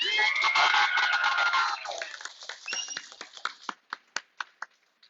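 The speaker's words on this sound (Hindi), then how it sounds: "सर के लिए एक जोरदार तालियां" An audience at a warehouse opening ceremony for Asclepius Wellness in Patna gives the guest speaker a dense burst of clapping and cheering, thinning out into a few separate, slowing claps before fading.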